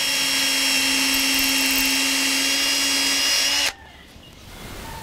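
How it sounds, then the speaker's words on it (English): A power drill drilling a pilot hole in deck timber whines steadily at high speed, loud and close, then stops abruptly, leaving quiet room tone. "you drill a pilot hole"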